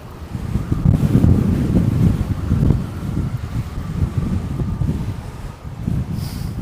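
Steady headwind buffets the microphone during a bike ride through San Francisco, a continuous low rumbling roar that swells and eases without pause, loud and close, with no talking.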